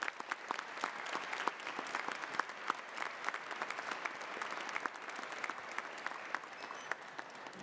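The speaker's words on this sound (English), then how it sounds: "Let's recognize their achievement with a round of applause." Graduates and guests clap at a December business school recognition ceremony, a steady, moderately distant round of applause with crisp individual claps throughout.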